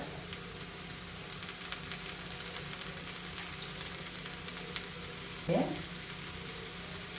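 Coconut oil sizzling in a pan while cooking a soya chunk masala curry, a steady faint hiss throughout with one brief louder clink near the end.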